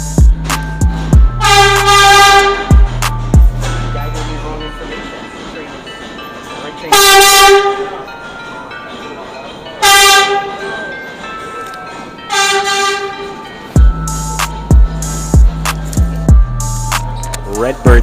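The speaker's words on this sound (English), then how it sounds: "Redbird subway car, truly nostalgic." A vintage Redbird New York City subway train runs loudly close by, its rumble broken by several sharp, chord-like horn blasts of varying length.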